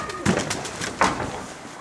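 Pigeons coo nearby in soft, throaty bursts from a loft, two or three quick low calls close to each other.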